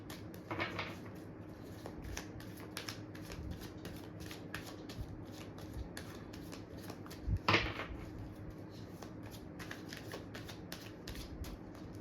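Tarot cards being shuffled by hand, soft and close, with repeated riffling and sliding bursts, a louder flutter midway, over a quiet background with no talking.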